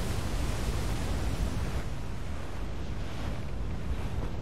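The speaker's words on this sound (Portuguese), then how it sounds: "Mano, tempestade de alto mar." Game audio of a high-seas storm in Assassin's Creed IV Black Flag, a steady dense roar of wind and crashing surf with no voices.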